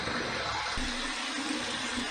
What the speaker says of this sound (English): Warm water rinse, cold water rinse